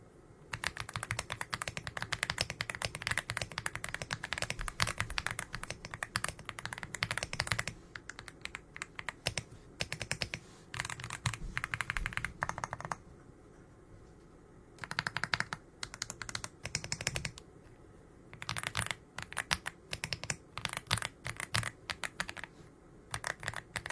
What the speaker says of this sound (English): with the Greywood Shaft V3 switches, these give me a like creamy, thocky sound